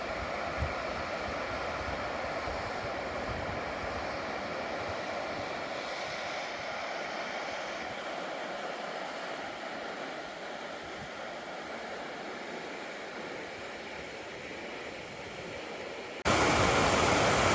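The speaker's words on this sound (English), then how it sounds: "It's a pretty cool little waterfall down this huge slab of rock." Small waterfall running down a huge rock slab into a creek below, a steady broadband rush of flowing water heard close and continuous, with no voices, growing brighter and louder in the final second.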